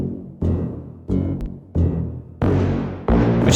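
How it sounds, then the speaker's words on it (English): Music production playback of a bass layer blended with a trombone part, a brassy low sustained line played in separate phrases with clear stops and restarts. "So this is a bass layer that I have layered with the trombone."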